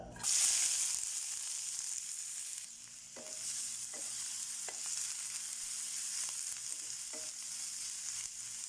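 Onion, green chili, crushed garlic and ginger sauté in hot oil, a steady broadband sizzle running throughout with occasional soft scrapes and stirs of a spoon, close and continuous with no talking.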